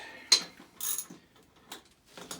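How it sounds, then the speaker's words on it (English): A ratchet with a deep socket loosens the T-bolt nuts at the base of a toilet, giving short bursts of close, crisp clicking with pauses between strokes. "So you can either use your crescent wrench, or I like to use my socket."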